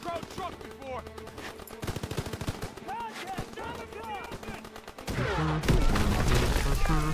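Automatic rifle and machine-gun fire in the World War II shooter Call of Duty: WWII, rapid bursts and scattered shots over game music, with voices talking throughout and a louder stretch at the end.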